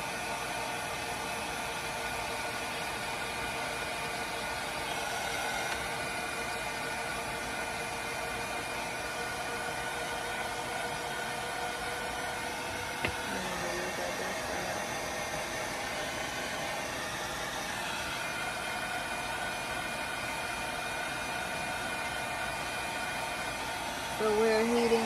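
A hair dryer blowing hot air to dry a handmade coaster, a steady loud whooshing hum running continuously, with a faint voice near the end.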